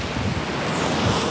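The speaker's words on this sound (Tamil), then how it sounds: "பெரிய அலை வருகிறதா என்று பார்த்து கொண்டிருக்கிறேன்." Sea waves wash onto the shore at Kaveripoompattinam, a continuous close surge of surf mixed with wind buffeting the microphone, heard alone.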